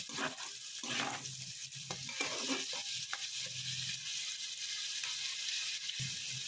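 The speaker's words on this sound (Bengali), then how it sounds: "আমার গাজর বিনস প্রায় ভাজা ভাজা হয়ে এসছে, আর একটু ভাজবো যাতে বিনসটা একটু সেদ্ধ হয়ে যায়।" Carrots and beans frying and being stirred in a pan, a continuous close sizzle with scraping stirring strokes, no talk over it.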